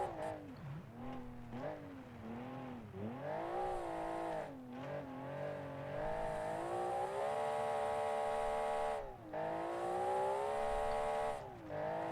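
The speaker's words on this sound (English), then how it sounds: "And you can hear the turbos as well." A high-revving 1985 turbocharged rally car engine with turbo whine during a classic rally competition, pitch rising and falling through gear changes and lifts, loud and close.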